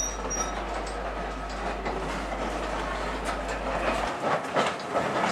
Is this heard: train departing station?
yes